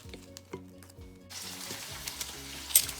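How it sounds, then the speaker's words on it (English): Fish and shrimp sizzle in hot oil in a deep fryer, a soft steady frying hiss with small pops and a few clanks, fairly quiet and without talk. "I'm gonna go ahead and place these in the fryer using my tongs."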